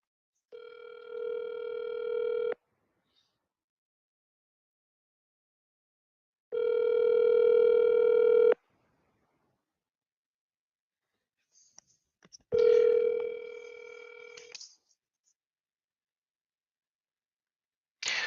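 Telephone call tones: three long, steady ringback tones separated by silences, the last followed by a brief click and short tone at the end, clear and alone with no talking.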